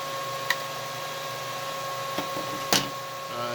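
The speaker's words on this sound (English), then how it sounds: "You might hear some humming in the background. That's the other miner" A steady electronic hum with faint tonal whine from a cryptocurrency miner runs throughout, broken by a few sharp clicks and taps.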